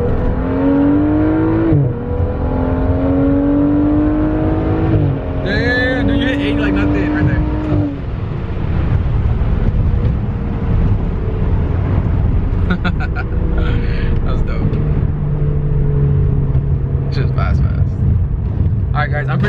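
A BMW F10 535i running on E85 fuel accelerates hard in second gear, its engine note climbing loud and close from inside the car, with rising tones and shift changes under constant road roar while people talk.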